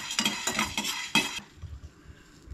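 Whole black pepper, coriander seeds, cumin and fennel dry-roasting in a pan for kachori filling, with a few scraping stirs and clinks of spoon against metal, then a quieter low rustle, close by with no talking.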